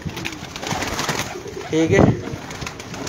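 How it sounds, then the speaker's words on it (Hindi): Pigeons coo in soft low bursts, one clear coo rising near the middle, amid background rustle and a brief spoken voice. "बड़ा बड़ा आउट क्लास कबूतर है माशाल्लाह।"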